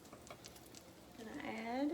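Blackberry fried pies frying in a pan, with a soft steady sizzle that swells and grows louder toward the end, joined by a rising whistling hiss in the final second.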